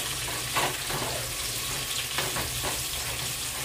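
Bitter gourd frying in a pan in a home kitchen gives a continuous dense sizzle, with faint scraping from stirring partway through.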